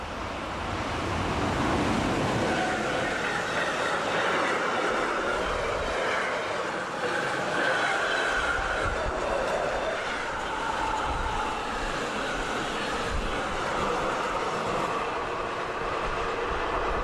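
A heavy freight train hauled by an ÖBB Taurus electric locomotive rumbles past steadily for the whole stretch, with a broad roaring wash of wheels and rail noise and faint clacking, no voices.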